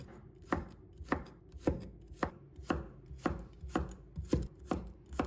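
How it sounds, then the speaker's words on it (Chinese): A knife slicing garlic cloves on a cutting board, about nine evenly spaced sharp chops with soft thuds, close and clear with no talking. "再准备一把大蒜，把它切成片。"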